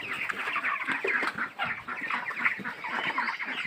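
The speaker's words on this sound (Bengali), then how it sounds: "মুরগি মাশাআল্লাহ ভালো সাইজ আছে, ভালো সাইজ মুরগি আছে।" Chickens on a poultry farm cluck steadily, many birds at once, a dense continuous chorus of close clucking and calls with no speech.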